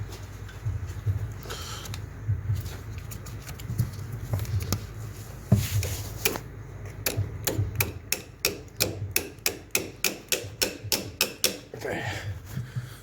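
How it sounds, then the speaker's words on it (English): A small hammer tapping an engine mounting bolt into place while fitting the engine to a salvage Audi A3 Black Edition, first scattered irregular knocks, then a steady run of about a dozen sharp, close metallic taps in quick rhythm. "You need a little hammer."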